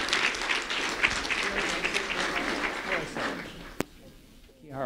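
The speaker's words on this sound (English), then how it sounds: "A round of applause for Kiara Williams," An audience claps for an honoree at a community recognition event, a dense burst of hands ringing out over a few seconds and tapering off, with voices mixed in and a sharp knock near the end.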